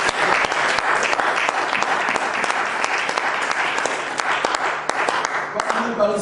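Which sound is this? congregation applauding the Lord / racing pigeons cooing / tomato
congregation applauding the Lord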